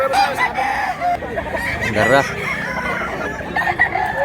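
Roosters crow repeatedly close by at a busy fowl market where gamecocks are for sale, with loud crowd chatter and voices talking over the calls throughout.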